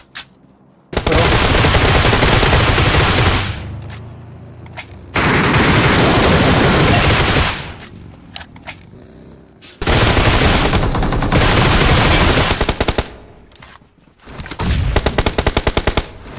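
Automatic gunfire in the mobile battle-royale game BGMI, loud rapid bursts separated by short gaps and quieter shots, with no talk.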